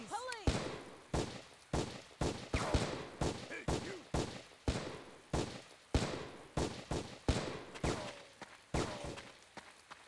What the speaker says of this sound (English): There's someone behind me shooting.